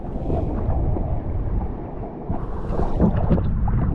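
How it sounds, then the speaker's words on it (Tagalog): Gusty wind rushes and rumbles against the microphone at moderate level, swelling stronger toward the end. "Lakas ang hangin oh."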